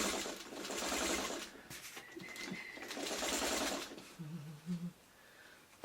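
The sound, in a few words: sewing machine sewing down the center of quilt blocks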